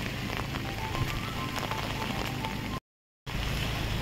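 Heavy rain falls continuously outdoors at a picnic spot, a close, even patter that cuts out completely for a brief moment before returning at the same strength.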